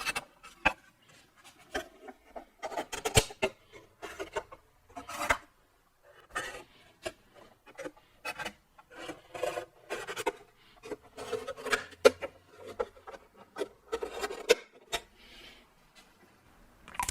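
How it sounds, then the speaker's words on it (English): A felt tip marker scratching and rubbing across metal laid over wooden stations of a curvy seat, irregular short strokes and taps with small pauses, close and fairly quiet. "I'll reach in with a felt tip marker, and I'm marking on the far side of the station"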